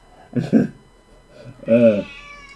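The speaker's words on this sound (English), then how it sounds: "The cat has been screaming at us non-stop for about a week now." A house cat meows loudly twice at close range, with a short double cry followed by a longer, drawn-out wail, heard on its own.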